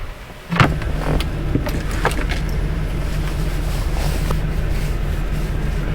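Idling engine of a 2014 Chevy Suburban with the air conditioning running, a steady close low rumble and fan hum that starts abruptly and holds continuously, with faint clicks and rattles over it.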